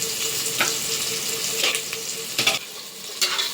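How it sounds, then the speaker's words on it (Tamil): Chopped onions fry in a hot pan for a Tamil goat-head curry kulambu, giving a continuous close sizzle with a few sharp stirring scrapes and no voices. "இது நல்லா வெங்காயம் வந்து நல்லா வதங்கணும்."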